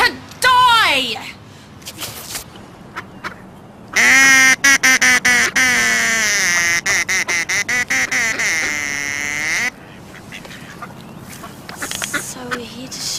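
Ducks quack loudly and repeatedly in a rapid, raspy chorus, with bursts of honking calls that overlap and come in close.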